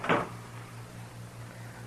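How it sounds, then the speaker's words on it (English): A door shutting as a sound effect in a classic western radio drama: a single soft thud at the start, then a quiet low hum. "Shut the door, Chester"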